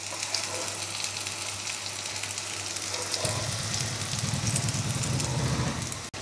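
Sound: pieces frying in a pan, second side

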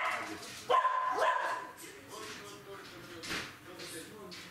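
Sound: dog barking

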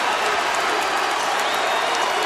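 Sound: basketball arena crowd cheering James Harden's record

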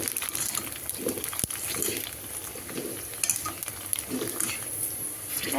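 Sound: fuchka puris puffing up while frying in oil

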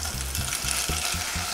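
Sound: bacon and meat frying in olive oil

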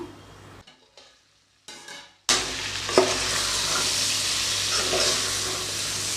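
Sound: mutton dalcha ingredients sautéing with salt in pan

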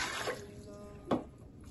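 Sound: water being poured into a large cooking pot

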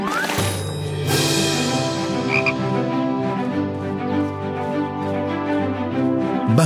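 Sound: frog croaking

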